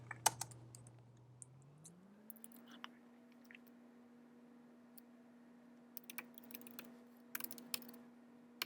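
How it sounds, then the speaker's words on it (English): Typing on a computer keyboard, quiet scattered key clicks in short bursts over a steady low hum, close to the microphone. "Let me type it over."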